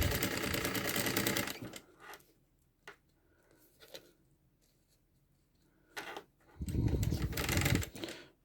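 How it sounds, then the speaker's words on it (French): A sewing machine runs in two loud bursts as it stitches a fabric seam on a baby's activity cube, with quieter clicks and handling sounds in the pause between. "je maintiens et je viens coudre jusqu'au bout"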